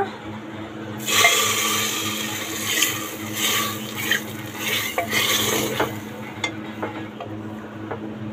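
Clattering of a metal pan and utensils as spices are tempered for dal, with a soft sizzle underneath and several sharp clinks and scrapes spaced irregularly.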